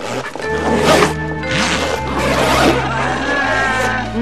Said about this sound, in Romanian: Ești norocoasă, ai doar un singur fermoar. Noi avem 10, ba nu 12.